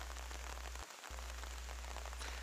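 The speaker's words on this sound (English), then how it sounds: "that is rain that you hear." Rain falls on the Congo forest at dusk, a soft, even hiss of countless drops spread across the canopy, faint and continuous with no voices over it.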